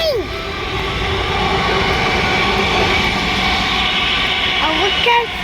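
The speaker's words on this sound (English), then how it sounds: "Oh, look at that train." A short train rolling past near a canal, a continuous broad rumble and rattle of moderate loudness heard from a middle distance, with faint squeals.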